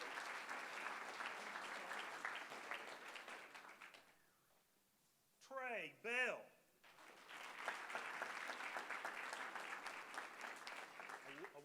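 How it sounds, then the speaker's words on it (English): A round of applause rises from the audience at a board recognition ceremony, a few seconds of steady dense clapping that fades out, a brief pause with a short spoken name, then full clapping again. "We can give her a round of applause."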